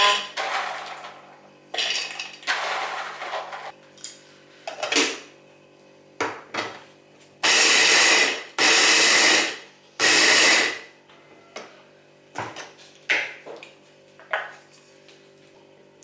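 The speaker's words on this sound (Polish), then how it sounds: "Zaczynam od posiekania orzechów włoskich. Ja to zrobię za pomocą blendera." Several loud bursts of a blender chopping walnuts, three long ones in the middle, broken up by clattering, knocks and brief pauses.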